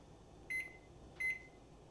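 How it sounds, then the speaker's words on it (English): An oven timer being set gives two short, clear electronic beeps about two thirds of a second apart, over faint room hum with no voices. "Let's put on a timer for 15 minutes."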